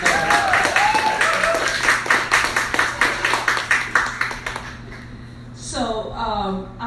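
An open mic audience applauds their host at a poetry reading, steady clapping that thins into separate claps over about five seconds before fading out, followed by a speaking voice.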